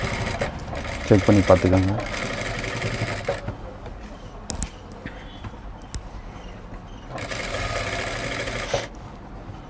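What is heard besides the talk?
sewing machine stitching blouse piping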